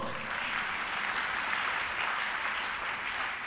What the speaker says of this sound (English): Don't you want to applaud?